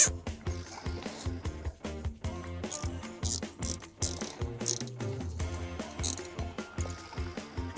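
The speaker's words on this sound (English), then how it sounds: "Use my tightener again." A duct band tightening tool ratcheting on an attic flex duct: quick repeated clicking ratchet strokes in uneven bursts, close and fairly quiet, with no talking.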